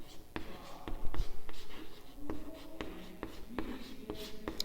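Pen strokes from someone writing out an equation, a series of short scratchy taps and scrapes coming in an uneven rhythm at close range, with faint murmuring or breathy voice sounds underneath.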